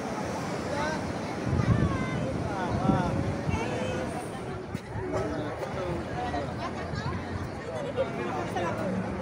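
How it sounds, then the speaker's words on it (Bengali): Sea waves roll in on the beach at Cox's Bazar, a broad, steady surf roar with wind buffeting the microphone while someone talks over it and a crowd murmurs in the background. "ঢেউ আর ঢেউ, শুধু ঢেউ আসছে।"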